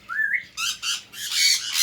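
Parrots at a zoo give a run of loud, harsh squawks, several rising calls in quick succession, close and clear with no talking over them.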